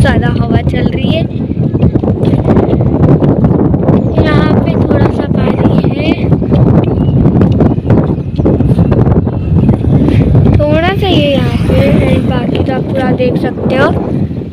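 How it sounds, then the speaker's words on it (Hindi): Strong wind buffets a microphone on a bridge over a mostly dry village river during a storm, a loud, constant rushing roar that continues throughout while someone talks over it. "यहाँ पे भी बहुत ज्यादा हवा चल रही है"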